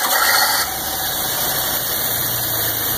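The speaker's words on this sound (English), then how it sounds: "after you put the oil back in, you start the engine." A car engine idles steadily after an oil change, a continuous close mechanical hum with a constant high whine, slightly louder in the first half second before settling into an even idle.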